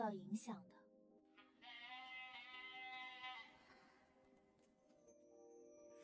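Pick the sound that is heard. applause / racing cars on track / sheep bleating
sheep bleating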